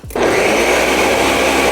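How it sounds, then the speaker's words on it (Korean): A Ninja all-in-one high-speed blender motor whirs up abruptly and holds a loud, steady roar close by, with no voices. "이 아이는 믹서예요, 믹서. 음, 초고속 믹서."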